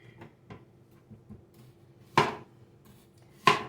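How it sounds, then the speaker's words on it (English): A knife cuts a white onion into rings on a board: light taps and soft slicing, then two sharp, loud chops a little over a second apart, close and with no talk. "So I just want to cut this white onion in some rings."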